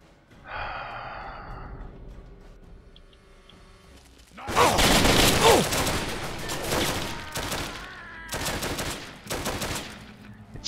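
Gunfire in the video game Fallout 3, in a modded playthrough set in the Museum of Technology: loud bursts of rapid automatic shots in clustered volleys after a brief breathy gasp, close and dominant.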